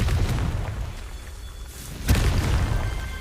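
A Confringo blasting curse goes off in Hogwarts Legacy, a sharp booming burst that rises abruptly over steady game ambience and then rumbles and fades.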